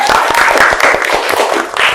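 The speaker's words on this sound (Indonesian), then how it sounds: "Sekali lagi tepuk tangan." An audience bursts into close, loud applause, rapid overlapping hand claps filling a short burst.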